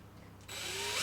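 Power drill spinning up and biting into a plastic Bruder toy ramp, starting abruptly after a quiet moment and building into a loud, steady whine that rises slightly as it bores through.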